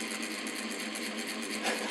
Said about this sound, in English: So we got a working air compressor. Uh-oh. Not sure why it's rattling so bad.